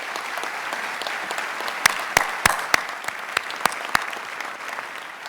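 An audience at a New York state budget address gives applause, a steady wash of clapping with sharper individual claps standing out in the middle.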